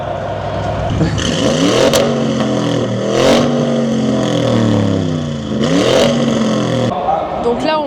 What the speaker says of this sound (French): est-ce qu'il y a une de ces voitures qui sait faire un peu de bruit? La RS6.